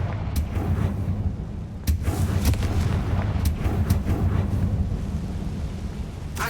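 In the game Hogwarts Legacy, Confringo fire spell blasts go off in a rumbling battle, several sharp explosive cracks over a deep continuous roar, loud and close.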